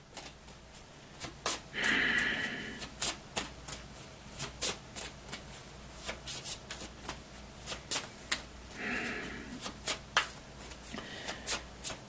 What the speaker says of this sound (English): So we shuffle our discard pile into the deck.